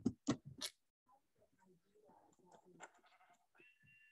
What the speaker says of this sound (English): So guys, we need sheep for beds. So that's why I'm killing this. Hopeless sheep.